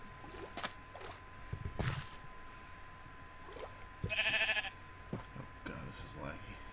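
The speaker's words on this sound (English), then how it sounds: "Now to kill a sheep." Sheep bleats in Minecraft sound several times amid scattered clicks and game noises, one bleat strong and buzzy near the middle, with faint voice fragments around them.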